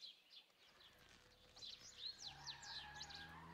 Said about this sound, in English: I'll mute the birds chirping.